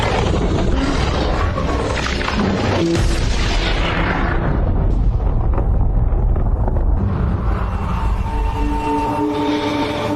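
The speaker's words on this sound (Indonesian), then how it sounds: "Tessa berhasil meledakkan bom pembeku dari dalam perut Kalsik" A freeze bomb explodes inside a creature in a sci-fi action film scene, a loud, sustained booming blast with shattering, roaring debris that slowly dies away into lingering rumble and tonal score.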